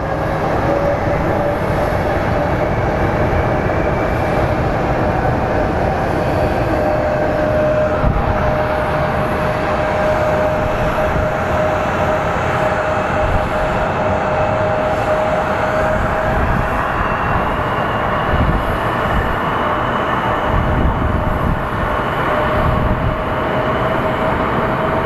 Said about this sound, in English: we do have a WestJet pushing back. Looks like a